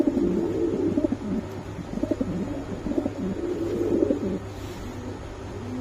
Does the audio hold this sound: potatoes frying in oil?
no